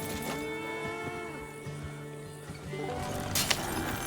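Horses on a ranch in the Western game Red Dead Redemption 2, whinnying with rising and falling tones and some hoof clatter, moderately close amid background ambience, ending with a brief sharp clatter.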